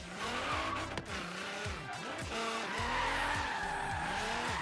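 A car drifts around a parking lot in Forza Horizon 3, tires squealing in repeated sweeping bursts over a revving engine, loud and close with no talk.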